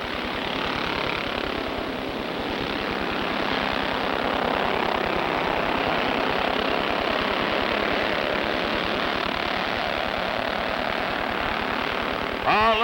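Race cars at Rockford Speedway roar together at the green flag, a loud, sustained wall of engine noise from a close pack with no break for the whole stretch.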